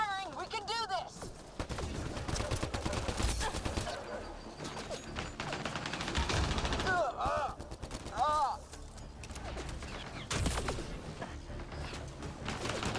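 Sustained gunfire in a Mass Effect: Andromeda firefight against shielded enemies, with dense rapid bursts and sharp cracks rattling almost without pause across the whole stretch, shouted voices breaking in now and then.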